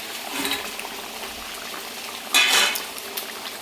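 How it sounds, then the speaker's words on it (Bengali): A pot of rohu fish curry with potatoes bubbles and simmers on a home stove, a soft close sizzle and burble with a brief louder splash or stir of liquid midway. "মাছগুলো দিয়ে তিন থেকে চার মিনিট ভালোভাবে ফুটিয়ে নেব"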